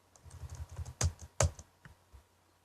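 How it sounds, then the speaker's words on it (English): Quick clicking keystrokes on a computer keyboard, a run of light taps with two sharper, louder strikes in the middle, close and alone in a quiet room. "I am typing ID here."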